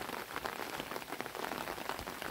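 Gentle, steady rain patters on a vegetable garden in a continuous soft hiss of many small drops, fairly faint and even, with no talk.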